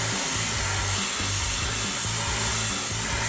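Steady broadband hiss and roar of a torch or heat gun heating around a bushing held in a press, continuous and fairly loud throughout with a low rumbling undertone and no talk, while old Rome grader and Cletrac K20 parts are worked on.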